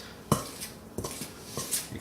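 Whole wheat and rye flour stirred by hand in a bowl, giving a few soft scrapes and light knocks against the bowl's sides, close by and quiet, with no talking.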